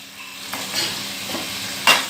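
Spices go into sizzling beef karahi and are stirred, with a steady close frying hiss, spoon scrapes against the pan and a sharper clink near the end.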